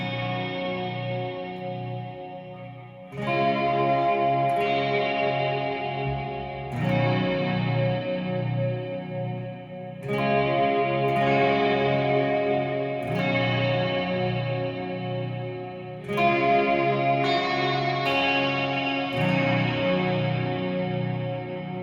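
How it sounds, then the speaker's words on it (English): An electric guitar runs through a Haunted Labs Dark Aura modulated reverb pedal, strummed chords blooming into long, cavernous, shimmering tails that swell and overlap across repeated phrases, played loud with no talking. "That is a gorgeous sounding reverb, very cavernous, like you're in a glacier or something."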